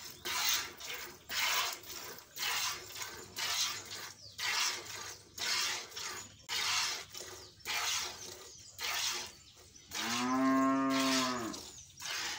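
A village dairy cow close to calving gives one long, loud, deep moo near the end, after a run of steady rhythmic rustling and squirting sounds close by.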